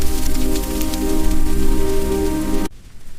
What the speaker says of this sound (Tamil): மழை வந்துவிட்டது